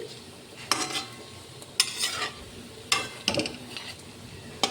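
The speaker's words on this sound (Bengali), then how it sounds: "এইভাবে আমি গরম তেলের মধ্যে দেখো একটা একটা করে ছোট করে বড়াগুলো ভেজে নিচ্ছি।" Small bora fritters fry one by one in hot oil, giving several short bursts of sizzling and spatter with quieter gaps between them.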